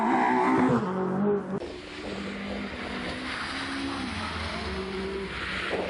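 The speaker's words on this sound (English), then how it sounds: "Hard on the brakes for the split." A rally car brakes hard for a split on a forest stage, its loud engine note dropping sharply before settling into a steady, close drone with rushing wind noise.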